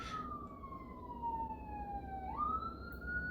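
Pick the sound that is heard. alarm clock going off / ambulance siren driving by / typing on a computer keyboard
ambulance siren driving by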